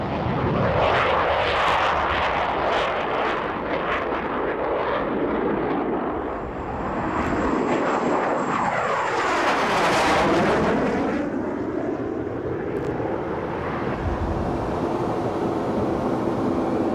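A British Aerospace Hawk T1 jet with a single Rolls-Royce Turbomeca turbofan roars overhead at a Red Arrows display, a sustained rushing jet noise that swells and sweeps past with a pronounced pitch shift.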